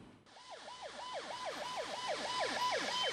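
An ambulance siren wails in a long traffic jam on the Adjamé-Indénié road, its rising and falling cycles repeating loud and steady over a low rumble of idling traffic.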